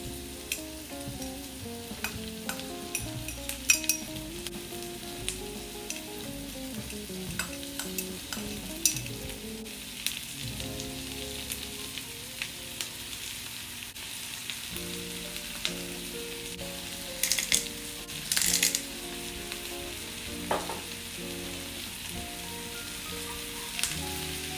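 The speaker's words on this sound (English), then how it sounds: "Cook and stir mushroom, diced bell pepper, soy sauce, garlic salt," Mushroom, diced bell pepper, soy sauce and garlic salt stir-fry in a pan, a long steady sizzle with occasional spatula scrapes and a couple of louder bursts, under soft background music.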